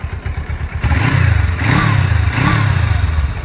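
A 2006 Suzuki GS500F commuter motorcycle, stock and in good running condition, revs up close by with a few rising and falling engine swells after a brief idle, loud and alone.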